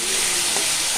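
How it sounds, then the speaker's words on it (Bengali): Bottle gourd peel sizzles steadily as it fries in a pan over low heat, a close, dense hiss that holds without a break from start to finish. "লাউয়ের চোকলা একদম ভালোভাবে ভাজা হয়ে গেছে"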